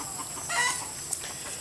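Chickens and a little rooster settled on their roost give a soft, brief burst of clucking midway, followed by a faint click, heard fairly quietly against a low, steady background with no talking.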